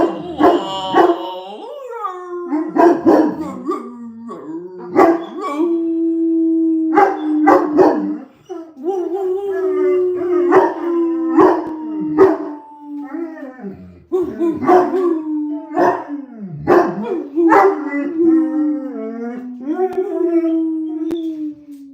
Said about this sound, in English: A dog walked by.